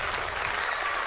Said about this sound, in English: A slow clap started up around the arena here.